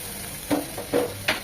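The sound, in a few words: sautéing spice paste in a pan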